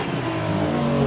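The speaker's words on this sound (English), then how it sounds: "it was this Lexus that was providing the revs" A Lexus engine revving hard at a modified car show, a sustained loud rev held steady for about a second.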